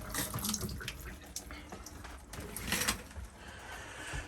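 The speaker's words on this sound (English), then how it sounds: "get the water on, and you get a nice, powerful stream coming from the shower head" Steady rushing water from a shower head in a 1981 Skyline Nomad RV, a close, continuous splashing spray with shifting hiss and no speech.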